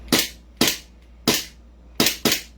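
An M4A1 carbine airsoft gun fires five weak shots, each a short sharp snap with a brief tail, spaced irregularly with a quick double at the end, close and clear with no talk.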